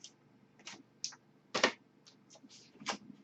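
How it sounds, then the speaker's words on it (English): A greeting card envelope is opened by hand, giving a series of short, close paper tearing and crinkling bursts with a louder rip in the middle, with no talking. "I am opening the card."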